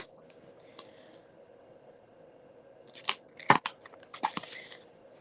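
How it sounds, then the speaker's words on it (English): Tarot cards being shuffled by hand, with quiet rustling early on, then a burst of sharp riffling snaps and flutters in the last two seconds, close and fairly faint. "I'm going to keep shuffling."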